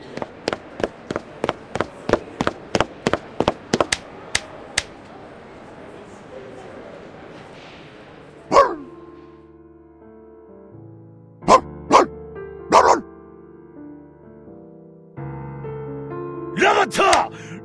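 A dog barks in the game Reverse: 1999, starting as a rapid run of sharp, evenly spaced barks that stop abruptly, followed by a low rumble and a few scattered loud barks against a faint musical bed.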